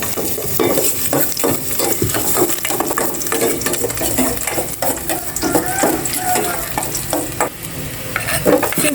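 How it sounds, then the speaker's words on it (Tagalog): Garlic sautés in a hot pan, sizzling loudly up close while a utensil scrapes and clinks against the metal in a steady stirring rhythm. "Igisa ko na po yung bawang."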